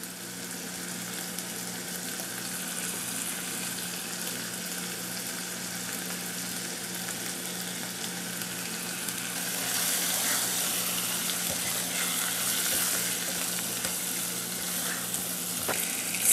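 Meat frying and being stirred in a pan for Persian celery stew with turmeric and pepper, a continuous sizzle that grows louder partway through, with occasional scraping from stirring and no talking.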